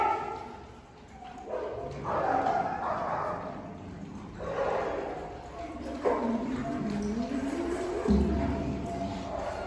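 Dogs bark and yip at a dog and cat care center during morning feeding, several animals at mid distance with overlapping calls and whines, while people talk and call out over the continuous commotion.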